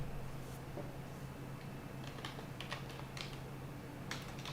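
Keys clatter on a computer keyboard during live programming, in quiet irregular bursts of clicks over a low room hum, with no talking.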